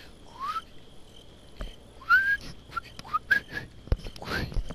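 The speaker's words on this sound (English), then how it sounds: "I can't even whistle for fuck's sake" A person attempting to whistle to call a dog, producing a few short, rising, wavering whistles in uneven bursts with breathy gaps and faint background noise.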